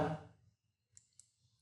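A computer mouse clicks twice in quick succession, faint and close, while working in Visual FoxPro 9 software, after a brief trailing bit of speech at the start.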